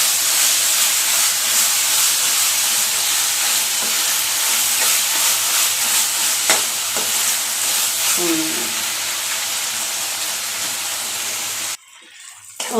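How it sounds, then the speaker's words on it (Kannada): Tomato and brinjal sizzle steadily as they fry in a pan for a long gozju-style eggplant dish, a dense, continuous crackling hiss close up with faint stirring scrapes, cutting out abruptly near the end. "ಈಗ ಟೊಮೆಟೊನ ಚೆನ್ನಾಗಿ ಫ್ರೈ ಮಾಡ್ಕೊತೀನಿ."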